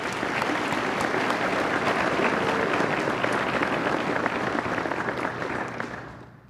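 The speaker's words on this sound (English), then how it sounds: "Give them another round of applause." An audience applauds at a university awards ceremony for Regents Medals for Excellence in Teaching: dense, steady clapping from many hands that holds loud throughout, then tapers off at the end.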